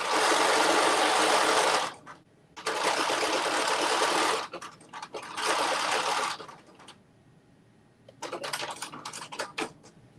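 A sewing machine stitches fabric for a Carmen top in loud, steady bursts of rapid mechanical chatter, with short pauses between runs and a few lighter clicking stitches near the end.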